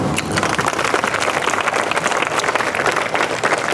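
A large audience applauds at a Torch Trek gathering with dense, continuous clapping held at steady volume throughout.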